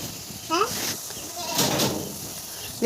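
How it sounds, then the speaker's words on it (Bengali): A goat bleats briefly nearby in a domestic setting, with people talking and faint household noises around it. "ছাগল ফ্যাঁ ফ্যাঁ ফ্যাঁ ফ্যাঁ করতেছে"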